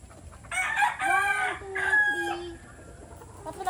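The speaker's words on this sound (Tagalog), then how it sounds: "aking breeding pen ng mga manok" Goldenboy Sweater gamefowl in a breeding pen give a loud nearby crow with rising and falling harmonic calls, followed by softer clucking as the yard noise settles.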